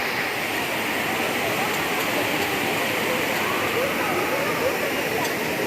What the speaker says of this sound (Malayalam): കുറ്റാലം വെള്ളച്ചാട്ടം.